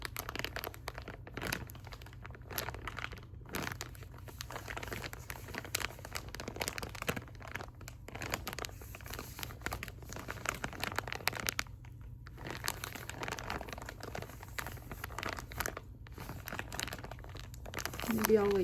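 A plastic zipper bag is crinkled and handled close to the microphone, producing steady soft crackling and rustling with brief pauses, quiet and without talk.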